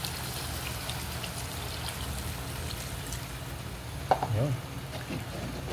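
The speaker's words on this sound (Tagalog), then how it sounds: "Guys, add na po tayo ng tubig." Water is poured into a pan of sautéed vegetables (patola, squash and string beans), a brief splash and pour rising over a steady background hiss of cooking, fairly faint and without talk.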